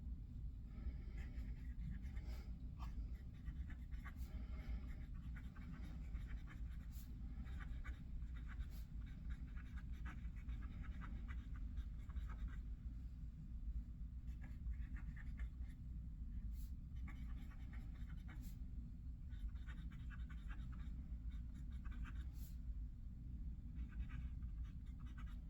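A Lamy Imporium fountain pen with a fine nib scratches across paper in faint, intermittent strokes over a low steady background hum, with no voices.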